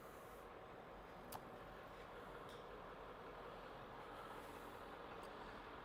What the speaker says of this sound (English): Always a big truck whenever I turn on the cameras.